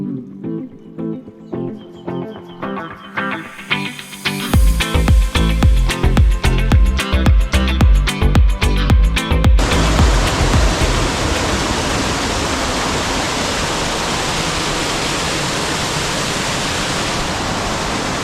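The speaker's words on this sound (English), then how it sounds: "I'm right up against the waterfall here, just at the edge of the plunge pool" The Scaleber Force waterfall crashes into its plunge pool, heard right at the water's edge as a loud, constant broadband roar. Before it, louder rhythmic knocking and rustling sounds fill the first half.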